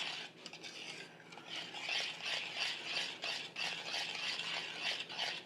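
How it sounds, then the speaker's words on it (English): A spoon stirs cinnamon apple dumpling sauce in a pan, soft rhythmic scraping and light rattling repeating steadily at a moderate, close-up level. "I'm just going to continue to stir it"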